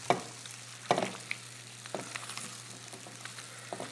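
Soft sizzling of potatoes frying in a pan, with intermittent scraping and tapping of a utensil stirring them, quiet and close.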